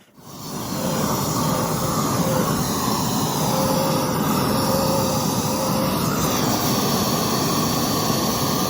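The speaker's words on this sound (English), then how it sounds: "The engine's nice and warm now." A 1928 Ford Model A engine, warmed up, runs at a steady idle with a continuous broadband rumble and faint harmonic whine, loud and close, with no talking over it.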